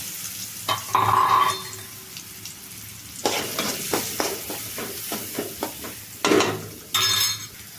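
Cumin, mustard seeds, asafoetida and turmeric hit hot oil for dosa filling, giving bursts of loud sizzling and crackling between quieter stretches, with a spoon stirring and clinking against the pan.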